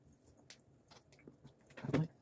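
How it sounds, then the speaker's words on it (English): Someone bites at a stiff piece of gingerbread, small clicks and strained chewing noises close to the mic, ending in a louder crunching burst near the end. "I can't bite it off."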